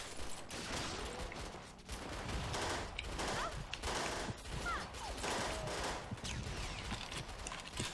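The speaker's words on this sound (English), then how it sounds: "Oh, I see gunfire." Rapid, dense gunfire fills a Perfect Dark Zero Eradication Mode match, with continuous overlapping shots and bursts close by and loud, plus scattered game effects.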